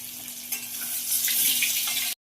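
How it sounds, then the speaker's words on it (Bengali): Potatoes sizzle and crackle steadily in hot oil in a pan as part of a home-cooked meat and potato dish, a dense close hiss that rises slightly before cutting off abruptly. "আলুটা ভাজার জন্য ছেড়ে দেবো।"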